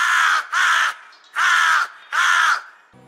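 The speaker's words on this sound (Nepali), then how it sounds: "बिहानै म आफ्नो संघार बाहिर निस्किँदा काग कराउँदै थियो।" A crow caws four times in a row outdoors in the morning, each harsh call loud and close, with short gaps between them and no other sound.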